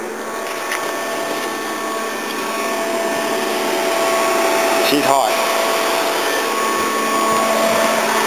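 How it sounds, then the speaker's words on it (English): An old Volvo's radiator cooling fan whirs steadily with a broad rushing drone after the engine has run hot; a person briefly speaks partway through, and the fan keeps running. "I'll leave the aircon going so the fan at the front continues going."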